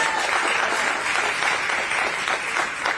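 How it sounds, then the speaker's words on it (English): A crowd at a community citizenship clinic and fair applauds event workers, with dense, steady clapping at moderate loudness for a few seconds. "give them a round of applause right now"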